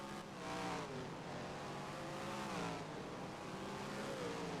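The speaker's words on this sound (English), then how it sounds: "why they sound a little different there when they go through turn 3, that bend there. It's because that is the shifting zone." Race cars in a sim racing game at St. Pete, revving and shifting gears through turn 3, engine tones rising and dropping in pitch as they pass, moderately loud with no talk.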